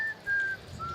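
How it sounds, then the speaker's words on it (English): Thin, clear whistling from players at a Warhammer tournament carries a few drawn-out melodic notes over faint background music, with short gaps between phrases. "Well, the players are whistling"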